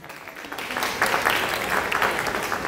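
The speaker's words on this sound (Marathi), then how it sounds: "तुम्हाला आवडलं असेल तर जोरदार टाळ्या वाजवायच्या" Audience applause after a children's play, a dense burst of many hands clapping that swells quickly and holds steady for a few seconds.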